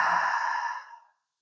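A deep, breathy exhale during yoga breathing, a single close, steady airy rush that fades out over about a second with no talk.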